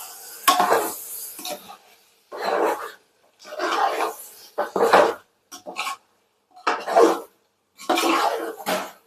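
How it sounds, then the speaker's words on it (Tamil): Chicken with mint and coriander being stirred in a pot for biryani, a series of separate scraping, clattering bursts of the spoon against the metal with short pauses between. "ஆட் பண்ணி கிண்டி கொடுங்க"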